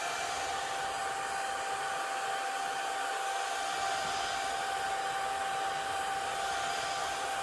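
A hair dryer runs steadily while drying watercolor paint, a close, even rush of air with a thin tonal whine held unchanged throughout, with no voices.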